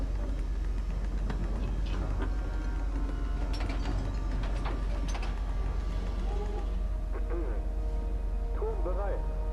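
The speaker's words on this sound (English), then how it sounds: "The rear turrets are rotating too." Bismarck's rear gun turrets rotating in a ship exploration game, a steady mechanical whirring with ratchet-like clicks over a constant low engine rumble, with scattered tones toward the end.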